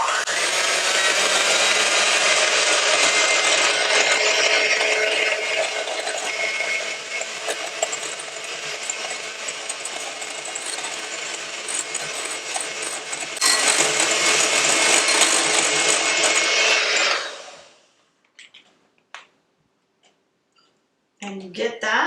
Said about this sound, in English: with our handy dandy mixer, you can do this in your big mixer if you want